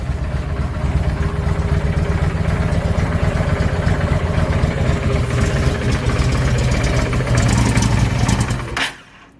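A 2007 Honda VT750 Shadow motorcycle idles after a cold start, its V-twin engine throbbing loud and close with an even, lumpy rhythm, briefly revving before being shut off near the end.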